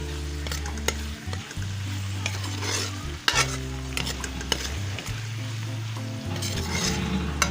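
Green chili paste frying in a pan for beef palak gosht, a close, steady sizzle with scraping stirs and a few sharp spoon clinks against the pan.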